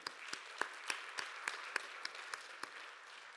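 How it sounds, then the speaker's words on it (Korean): A church congregation at a Sunday youth worship service claps to welcome a first-time attendee, a short, sparse round of hand claps in a reverberant hall, moderately faint and thinning out. "박수로 함께 환영하도록 하겠습니다"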